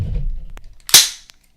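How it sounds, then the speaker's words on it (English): A rifle's action is racked once with the trigger held back during field stripping: a low mechanical rumble of handling, then a sharp metallic clack, followed by a faint click. "So hold the trigger to the rear and rack your rifle."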